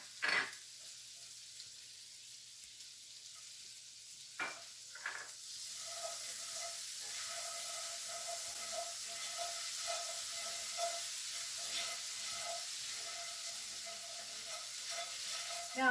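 Two tablespoons of butter melt in a pan while making a bourbon peach upside-down cake, a quiet start giving way to a soft, steady sizzle with faint crackles that holds to the end.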